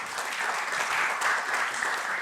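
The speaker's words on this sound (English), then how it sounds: "Big clap for him, everyone." An audience at a Web3 summit applauds a speaker, a dense, steady burst of clapping from a crowd lasting a couple of seconds with no talk over it.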